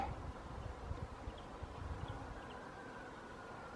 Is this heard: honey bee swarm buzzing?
yes